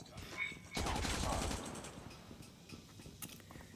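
An RPD light machine gun with the Orbit skin fires a short, punchy burst in Call of Duty, loud and close, followed by mechanical rattling and fading game noise.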